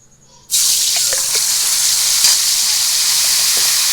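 Vegetables for pav bhaji hit hot oil in a pan with a sudden loud sizzle that stays a steady, bright, hissing fry, close and unbroken, with a few faint pops underneath.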